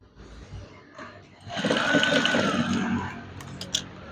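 A sewing machine stitches curtain fabric, starting after a quiet lead-in and whirring steadily for about two seconds before slowing. Small clicks and handling noises of the cloth follow near the end.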